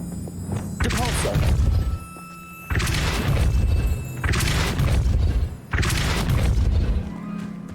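Repeated heavy magical blasts from the Depulso spell in Hogwarts Legacy, three loud booming thuds with crashing texture, each roughly a second or more long and separated by brief pauses.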